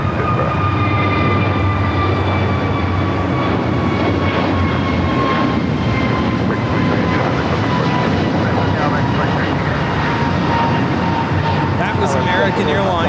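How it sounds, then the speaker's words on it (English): American Airlines flight 2832, an Airbus A321neo, taking off from LAX for Dallas Fort Worth: a loud, steady jet engine roar with a broad rumble and high whining tones holding throughout, with people talking in the background. "American Airlines 2832 taking off to Dallas Fort Worth on the A321neo."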